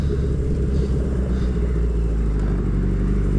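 A motorcycle with nearly 203,000 miles rolls in first gear around a parking lot without throttle, engine idling along at low revs with a steady, deep rumble and a faint mechanical clatter, close by and unchanging throughout.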